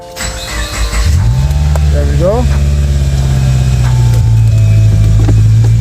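A fire-damaged Subaru bought at auction, feared hydrolocked, is started: the starter cranks briefly, the engine catches and then settles into a loud, steady idle nearby, while someone talks over it.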